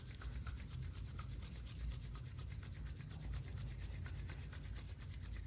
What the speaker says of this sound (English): This is the technique I was telling you where we can rub our hands together.